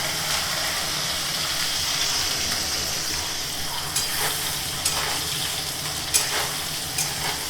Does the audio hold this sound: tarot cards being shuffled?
no